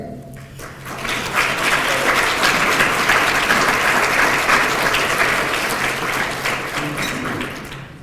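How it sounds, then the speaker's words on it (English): An audience applauds at a half-century reunion ceremony at Pittsburg State University, sustained dense clapping from a large crowd that swells quickly, holds steady for several seconds, then begins to taper off near the end. "Let's give them a round of applause."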